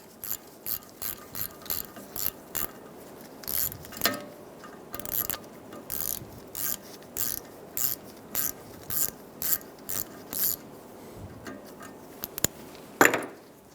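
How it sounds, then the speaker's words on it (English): A ratchet clicks in short repeated bursts as a T30 bit backs out the bolts of the front brake backing plate on a 2007-2011 Toyota Camry, close up, with brief pauses between bolts and a metallic clink near the end. "Using a T30 bit, we're going to remove the bolts for the backing plate."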